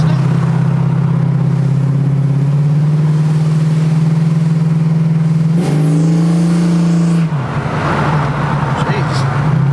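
A convertible car's engine, just back on the road after a seven-year build, hums steadily at a low pitch, then revs up sharply and settles into a rough, louder driving roar, close by.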